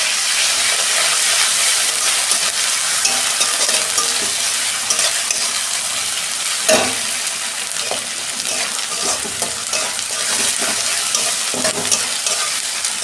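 Ginger garlic paste fries in a pan with browned ingredients for a doi katla curry, giving a loud continuous sizzle with occasional stirring clicks and one brief louder burst midway, no voices.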